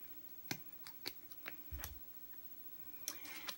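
Scissors snip through an elastic tube for a mask in a quiet room, giving several short, close, crisp cuts at irregular intervals.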